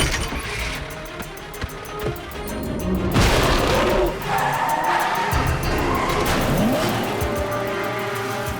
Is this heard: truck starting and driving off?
yes